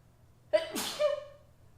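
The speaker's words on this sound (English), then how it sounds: "I sneezed." A single close, sharp human sneeze with a quick intake of breath and an explosive burst, heard alone in a quiet kitchen during cooking.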